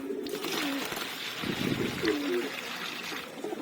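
Pigeons coo repeatedly during bath time, their low rolling calls close by over a steady trickle of water and faint background voices.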